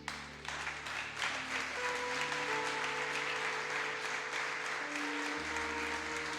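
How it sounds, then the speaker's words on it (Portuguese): A congregation claps together during a family worship service in church, a faint, continuous patter of hands under sustained musical tones. "Mais forte, irmãos, que as palmas são para o Senhor."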